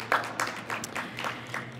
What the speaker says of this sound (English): let's just clap it up for that